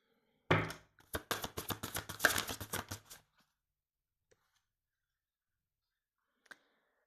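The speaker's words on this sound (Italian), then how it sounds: "Andiamo a vedere qualche altro oracolo." A quick burst of riffled oracle card shuffling, dense rapid clicks lasting a few seconds, followed by silence and a single faint tap.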